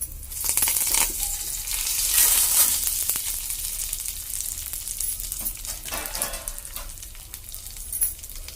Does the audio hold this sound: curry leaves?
yes